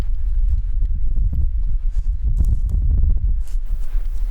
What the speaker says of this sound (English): there's what sounds like footsteps walking around, and something might have even touched that recorder